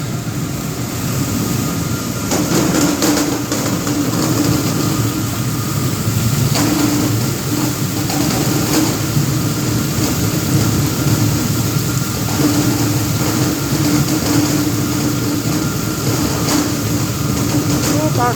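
A 'krotyk' onion processing machine runs with a steady loud mechanical rumble and rattle, with intermittent clatter and a faint hum throughout.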